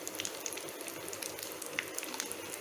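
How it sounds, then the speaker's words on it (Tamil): Cauliflower pieces lightly shallow-frying in oil in a pan give a faint, steady crackling sizzle with small irregular pops, and no voices. "உருளைக்கிழங்கு ஃப்ரை பண்ணி எடுத்து வச்சு அடுத்தது காலிஃப்ளவர்"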